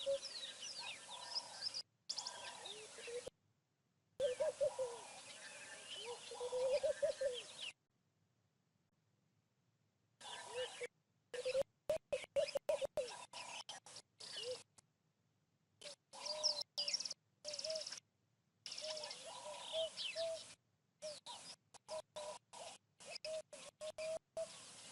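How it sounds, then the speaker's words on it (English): Birds call and chirp in a riverside setting on an afternoon, repeated short phrases coming and going with silent gaps between, moderately near and clear over quiet background. "Beautiful afternoon bird calls."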